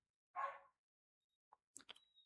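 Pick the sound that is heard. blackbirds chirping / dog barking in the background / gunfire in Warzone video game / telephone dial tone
dog barking in the background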